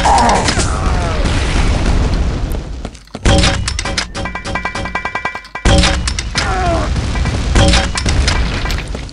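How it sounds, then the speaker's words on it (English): Grenade launcher blasts in the video game Quake 2, loud booming explosions over a dense, continuous game soundscape, with sharp onsets near three and a half and five and a half seconds and a voice talking throughout. "He takes quite a few grenades. Boom."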